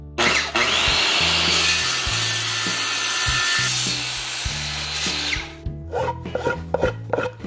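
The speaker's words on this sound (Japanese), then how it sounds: "丸ノコでジャーンとカットしたいと思います。" A circular saw cuts a wooden board to length in a storage shed: a loud, steady whining rip runs for about five seconds, then the blade winds down into scattered knocks and handling noises.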